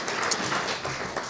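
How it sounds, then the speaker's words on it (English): An audience claps through a short, dense burst of applause at a charity talk, with steady broadband clatter that neither swells nor fades. "That's worth a round of applause."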